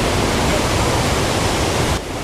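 Loud, steady roar of breaking ocean surf at a Hawaiian shoreline, a continuous broadband wash that fills the scene and drops slightly in level near the end.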